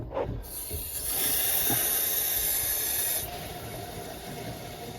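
Water hissing through the pipework after the cold supply is reopened on a Worcester Bosch boiler: a sharp, steady high hiss that starts abruptly, holds for about three seconds and then cuts off, leaving a softer rushing.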